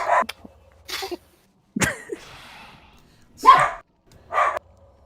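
A dog barks in short bursts, several separate sharp barks spaced out with quiet gaps between them, fairly close and loud.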